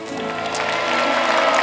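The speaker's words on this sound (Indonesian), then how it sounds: "Billy Saputra tepuk tangan dulu" Studio audience applause on an Indonesian talent show, a steady wash of clapping that swells slightly toward the end over a sustained musical backing.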